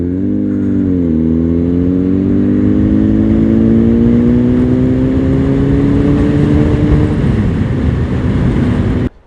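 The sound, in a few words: Honda Fireblade Repsol CBR 1000 RR motorcycle riding and pulling over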